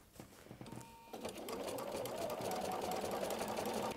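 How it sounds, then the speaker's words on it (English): A sewing machine stitches a superhero cape, starting with a few light clicks before settling into a loud, steady, close whirring run of stitches. "So I'm just going to start stitching"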